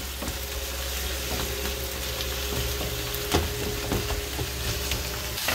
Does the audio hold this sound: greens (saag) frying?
yes